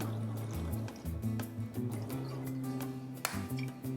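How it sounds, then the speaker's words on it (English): Vodka pours into a measuring cup for pie crust dough, a trickling liquid sound with drips and small splashes against a low steady background hum. "I'm going to measure out 3 ounces of vodka."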